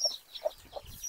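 Faint, short clucks from a chicken, a few brief calls spaced apart with quiet pauses between.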